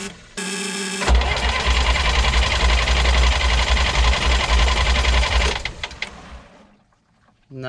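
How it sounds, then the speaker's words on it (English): A boat's engine is cranked over without starting, with no throttle: a loud, steady mechanical whirring grind runs for several seconds, then winds down and fades to near silence. "That was with no throttle, just kicking over the engine, but PJ's down there doing something."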